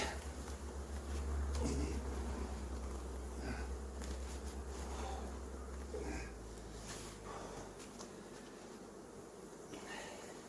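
Honey bees hum steadily around an open hive during an inspection of the top honey super, a dense, continuous buzz close by with some handling noises and no talk.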